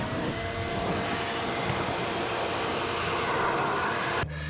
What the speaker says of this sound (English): I'm going to put the vacuum in reverse and just blow out all the